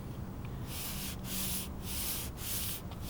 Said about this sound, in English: I'm sanding straight across, back and forth, and I'm always meeting in the middle.